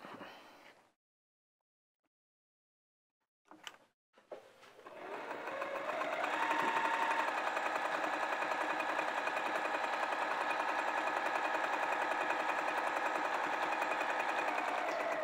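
Sewing machine top stitching a flannel tunic, starting after a brief near-silent pause and a few clicks, then running steadily and evenly close by for the remaining seconds.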